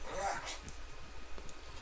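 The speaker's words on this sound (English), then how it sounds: "This one dog is really old. It makes weird noises sometimes." An old dog makes a faint, high whimpering whine early on, followed by soft intermittent noises under a constant background hum.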